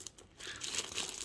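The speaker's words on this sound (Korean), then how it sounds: "본체는 이렇게 비닐로 위생적으로 포장이 되어 있습니다." Thin plastic film wrapped around the body of an inexpensive egg cooker crinkles and rustles close up, a quiet burst of crackling that builds after a short pause, with no talking.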